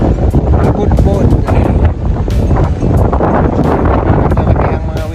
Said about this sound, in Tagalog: Ay, grabe po yung hangin dito. Lakas po ng hangin.